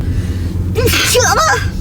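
A pregnant woman at 37 weeks gives a single sharp sneeze up close, a quick intake of breath and then a burst of air, heard alone.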